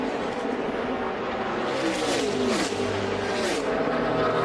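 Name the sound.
NASCAR race cars racing through a corner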